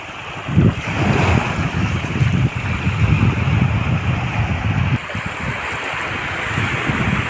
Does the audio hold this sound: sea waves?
yes